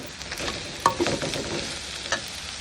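Tomato and green chili sauté in a pan for an onion masala, with a soft sizzle beneath a few close, distinct scrapes and knocks from stirring.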